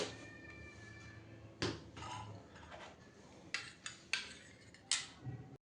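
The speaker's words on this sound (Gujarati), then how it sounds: "અને હવે એને મિક્સ કરી લઈએ" Homemade neem, tulsi and aloe vera gel being stirred in a bowl, heard as a run of clinks and scrapes of a spoon against the bowl with short sharp taps, close and fairly quiet, with no talking.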